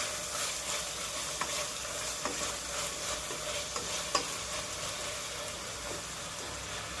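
Tomato and chopped vegetables with a pinch of salt being mixed in a pan for vegetable upma, a soft continuous sizzle with faint spoon scrapes, fairly quiet and without voices.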